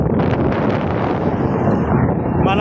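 Steady outdoor wind buffets the microphone in a continuous low roar with no breaks, heard up close and loud while walking outside in a breezy spot.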